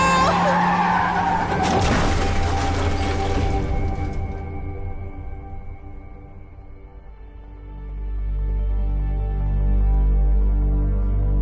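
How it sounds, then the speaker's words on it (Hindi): A car skids with loud squealing tires, then a sharp crash as it overturns, after which a low engine drone and ringing tones linger and a deep rumble rises near the end, dramatic and close. "यहाँ कार एक्सीडेंट हुआ है। गाड़ी उलट गई है"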